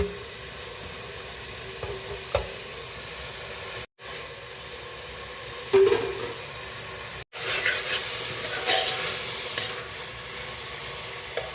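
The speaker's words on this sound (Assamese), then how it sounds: "এই জাতিলাও অকণ, ৰঙালাও অকণ একেলগে লৰাই দিম" Bottle gourd and pumpkin sizzle and fry together in a pan for Assamese posola khar. A steady hiss carries throughout, broken by occasional scraping stirs, with no talking.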